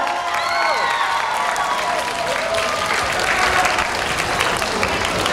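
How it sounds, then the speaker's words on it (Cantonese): Audience applause and cheering at a youth street dance competition semi-final results announcement, honouring 14 competing teams; dense, steady clapping fills the room from start to finish, with a few voices calling out above it. "大家俾多啲最熱烈嘅掌聲，呢14隊嘅參賽者。"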